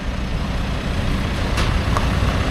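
A lorry hauling a car for delivery toward Sarawak gives a steady, close, heavy engine rumble with constant road noise; no one speaks.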